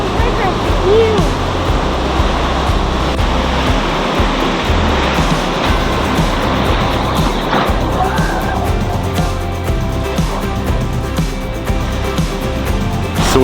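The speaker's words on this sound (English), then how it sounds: "Those waves are huge." Large ocean waves pounding the rocks at Devils Churn on the Oregon coast, a loud, continuous roaring surf with churning wash throughout, and a voice heard faintly over it.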